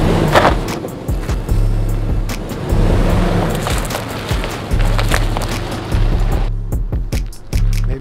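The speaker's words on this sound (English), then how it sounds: "Could you run it over with your car?" A car rolls over a flexible CIGS solar panel laid on the ground, producing close, heavy crunching and creaking with repeated sharp knocks and pops over a low engine rumble, then quieter ticking at the end.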